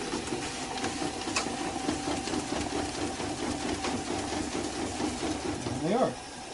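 An Accufast XL labeler feeding labels runs with a steady mechanical whir and rhythmic ticking, close and continuous, with a brief rising whine near the end.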